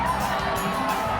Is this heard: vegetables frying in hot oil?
no